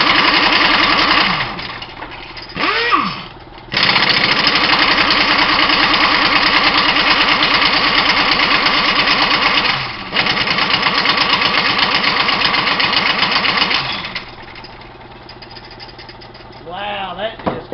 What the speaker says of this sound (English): Let's fire this engine up.